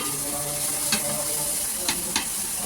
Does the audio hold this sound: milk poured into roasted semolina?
yes